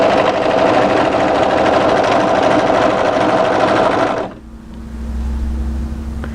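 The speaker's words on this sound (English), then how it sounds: "The overlocking blade is just going to be really to tidy up the edge of our fabric." An overlocker stitches and trims the raw edge of fabric with a loud, fast, continuous whirring hum up close, then cuts out abruptly, leaving a low residual drone.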